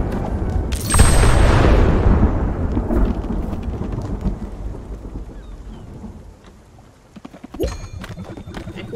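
Thunder cracks loudly near the one-second mark in a stormy scene from the video game Spiritfarer, then rolls and rumbles away over steady rain, with hoof-like clopping beats returning near the end.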